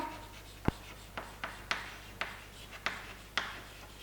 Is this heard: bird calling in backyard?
no